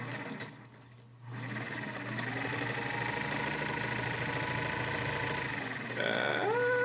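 A sewing machine runs steadily, stitching a fabric wine lampshade with mismatched blue bobbin thread against green, a continuous close mechanical whir with a brief slowdown near the start and a shift in pitch at the end.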